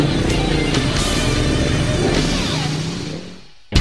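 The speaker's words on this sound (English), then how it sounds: "I'm trying to talk over this really awesome sounding Ducati clutch." Ducati motorcycle at the Laguna Seca MotoGP with its distinctive rattling dry clutch, a loud, close, sustained engine roar and rattle that fades slightly before a sharp burst at the end.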